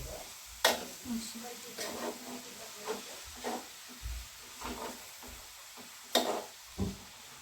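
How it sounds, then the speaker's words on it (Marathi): Soft sizzling of vegetables stir-fried in a pan after steaming, broken by a series of scraping, clattering stirs at irregular intervals, with quiet murmuring in the background. "पाच मिनिट वाफ काढून झाली आता थोडं परतून घ्यायचं"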